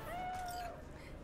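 A cat in the video game Cyberpunk 2077 gives a single drawn-out meow, close and clear over a steady low ambient hum.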